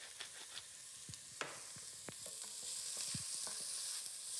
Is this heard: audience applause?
no